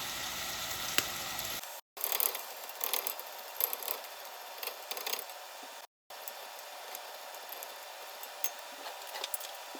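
Ground beef browning in a pan, a steady hiss and crackle of frying meat with scattered pops, fairly faint and broken by two short dropouts, with no talking.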